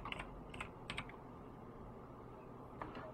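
Someone types a web address on a computer keyboard, producing a few faint, scattered key clicks over a quiet room hum.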